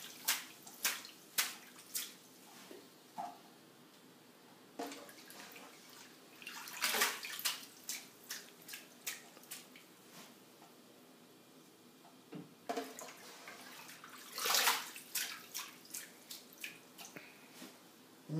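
Mustard greens shaken and swished by hand in a basin of water, producing repeated splashes and drips in uneven bursts, close and moderately quiet with no talk.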